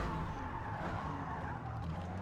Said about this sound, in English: And this Porsche is really sliding a lot.